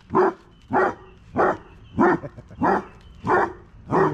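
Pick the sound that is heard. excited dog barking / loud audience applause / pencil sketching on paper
excited dog barking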